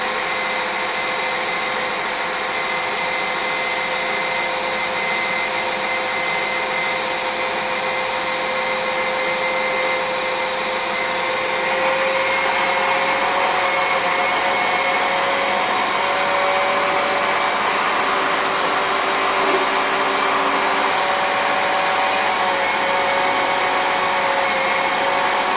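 A suction pump drains old power steering fluid from a Jeep Cherokee XJ reservoir, making a steady, loud, close whining hiss that holds without a break and grows slightly stronger partway through.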